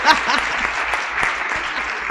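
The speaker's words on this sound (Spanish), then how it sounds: "Otro aplauso para Daniela." A live audience gives Daniela another round of applause during a talk on women in mining, a short, close burst of steady clapping with a voice faintly underneath.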